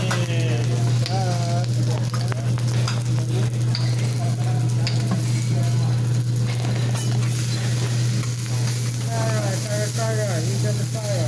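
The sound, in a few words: dinner frying and being stirred in a pan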